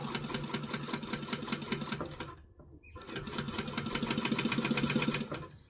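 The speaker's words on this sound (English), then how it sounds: "So basting is just stitching within the seam allowance so it won't be seen, but to hold all the pattern pieces together" A sewing machine runs basting stitches within the seam allowance of a kangaroo toy: a rapid, rattling run of stitching, a short pause, then a second run that swells slightly before tapering off.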